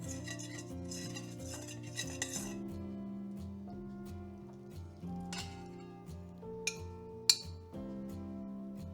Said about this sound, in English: using a metal spoon, scrape the sticky dough onto it